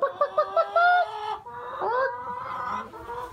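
Farm chickens at dinner time cluck and squawk close by in a quick burst of short calls, followed by more drawn-out, rising squawks, loud with no talking.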